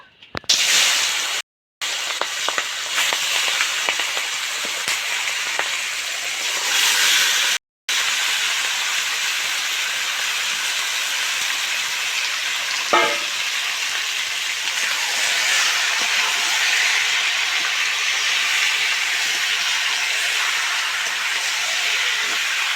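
Marinated chicken hitting hot oil on a stove for egg chicken chowmein, a strong close hiss and sizzle that stays loud and continuous throughout, with a couple of brief cuts near the start.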